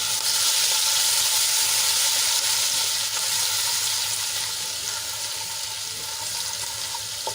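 Garlic and chili paste, added with cumin and a pinch of asafoetida, sautés in hot oil with a steady, close hiss of frying that holds constant and eases slightly toward the end.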